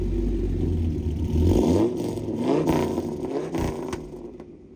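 Dodge Viper V10 engine revving, a loud, deep rumbling roar that climbs and falls through a few throttle blips with a slight rattle, close by, then easing off at the end.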